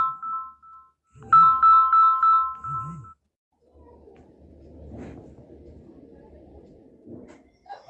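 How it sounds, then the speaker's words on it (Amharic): A mobile phone ringtone plays an incoming-call melody in repeated bright tonal phrases for about two seconds, then cuts off and quiet conversational voices continue. "ወይ ስልክ ገብቶ ነው ዘጋሁት"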